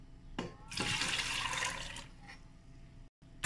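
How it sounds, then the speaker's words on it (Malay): Water pours in a steady rushing stream onto tomato rice ingredients in a blender, about one cup, loud and close for roughly two seconds before tapering off, with no talking. "saya akan masukkan dalam 1 cawan air"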